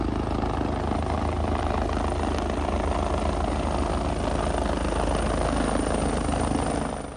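A helicopter at a family wedding in Karnal drones loudly and steadily with a continuous rotor roar and engine rumble that fills the whole stretch without a break.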